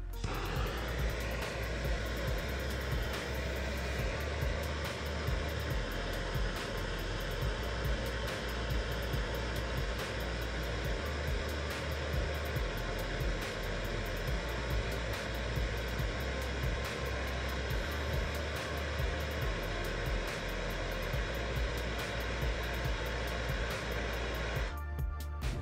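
A torch flame heating a furnace pilot thermocouple during an HVAC test, a steady loud roaring hiss held continuously with a faint mechanical hum underneath, close up and without speech until it cuts off near the end.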